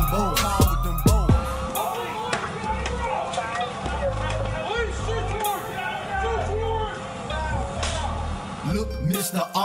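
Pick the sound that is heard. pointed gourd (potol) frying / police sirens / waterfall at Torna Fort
police sirens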